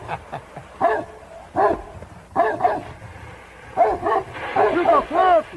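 Dog barking and yelping repeatedly in a dubbed 1993 film, loud and close, in short bursts with whimpery tones, mixed with brief stretches of speech.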